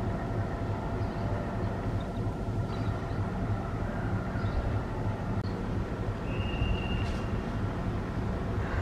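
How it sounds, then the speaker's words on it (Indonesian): The Baturaden passenger train, hauled by two locomotives, rolls into Cibatu station with a steady, moderately loud rumble, and a brief high squeal rises near the end. "Kereta api Baturaden saat ini persiapan masuk stasiun Cibatu."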